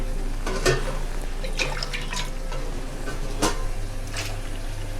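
Short bursts of cold water splash and trickle into a pot for fish curry, several separate glassfuls poured over a low steady hum.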